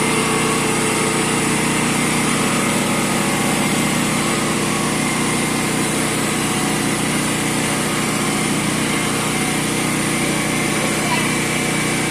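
A portable generator runs loud and steady, powering three pumps off an adapter cord, its high-pitched engine drone constant throughout with a voice faintly over it.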